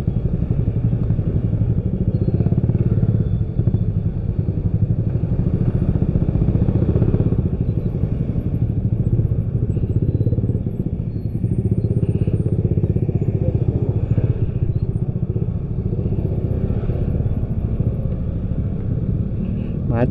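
A motorcycle rides through congested traffic on the Ciawi–Cicurug road, its engine droning loud and steady throughout with wind rumble and a rider's voice mixed in.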